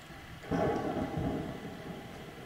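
Rolling thunder with steady rain in a Blood Bowl video game match, a loud rumble swelling after a quiet start, then a sustained wash of rain and low grumbling that continues to the end.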